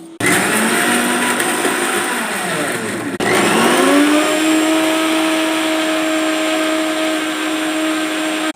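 A mixer grinder whirs loudly as it grinds a spice paste with curd, its motor droning steadily, briefly dipping in pitch midway and then settling into an even high hum.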